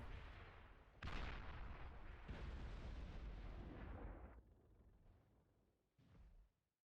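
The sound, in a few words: long range plasma cannon firing, video game Beyond All Reason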